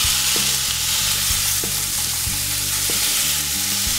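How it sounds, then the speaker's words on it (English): Beef sizzling as it fries in a pan for Korean BBQ tacos, a steady dense crackle and hiss throughout with faint scraping stir sounds, close and alone with no talking. "Sizzle."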